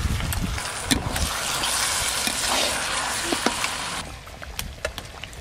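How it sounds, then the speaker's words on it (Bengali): Mutton pieces frying with chopped onions in a hot pan, a steady close sizzle with occasional stirring scrapes and spatters, fading slightly toward the end. "এরপরে কেটে ধুয়ে রাখা খাসি মাংস দিয়ে আর একটু ভালো করে ভাজা ভাজা করব।"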